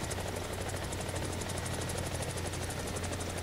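A Mi-24 helicopter in the War Thunder video game drones steadily with a rapid, even rotor chop and engine whine. The sound runs continuously and at moderate level, with no talk.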